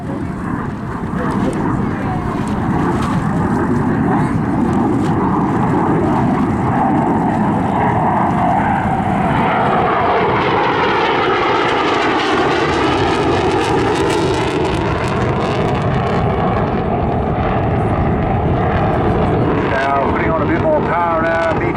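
A SAAB SK-37 Viggen jet flies past at the Southport airshow with a loud, continuous engine roar. The roar sweeps and shifts in pitch as the jet passes, and a commentator's voice runs underneath.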